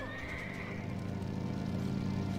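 A horse whinnies in World of Warcraft: a loud wavering neigh near the start, with hoof clip-clop and dense game sounds continuing underneath.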